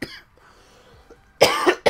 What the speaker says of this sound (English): Really sorry about the coughing.